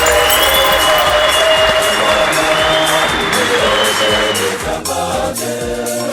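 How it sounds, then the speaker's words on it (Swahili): A church congregation clapping hands together, loud and continuous, a dense steady patter with some crowd noise mixed in, tapering slightly near the end. "Piga makofi."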